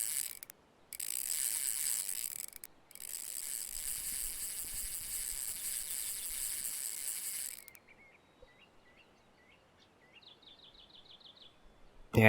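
Fishing reel drag ratchet in Russian Fishing 4, a steady loud buzzing click run for several seconds, pausing, resuming, then fading into sparse clicks and chirp-like ticks.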